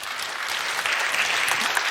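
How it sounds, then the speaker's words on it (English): An audience at a TEDx salon talk on AI, art and architecture breaks into loud, sustained applause, a dense even clatter of many hands close around. "A warm applause for André Holzapfel."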